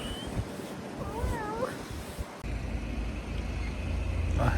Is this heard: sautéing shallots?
no